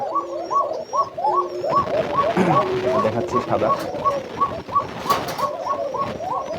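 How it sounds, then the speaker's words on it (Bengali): Koka pigeons at a farm coo in a rapid, rhythmic, repeating pattern, loud and close, while someone talks over them. "এটা হচ্ছে লাল কবুতরগুলো"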